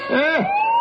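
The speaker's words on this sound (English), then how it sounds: "that's the ambulance coming out of the side road." Ambulance siren in an old radio drama, a single loud wailing sweep that rises and bends in pitch, close and alone for under a second.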